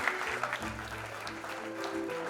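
A burst of applause from a crowd, steady clapping filling the whole stretch with a faint tonal hum underneath.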